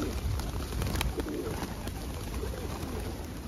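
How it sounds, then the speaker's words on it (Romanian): A large flock of pigeons in a park coos in a dense, continuous murmur, with fluttering and scattered nearby calls over steady outdoor ambience. "Foarte frumos, prieteni, sunt mii de porumbei"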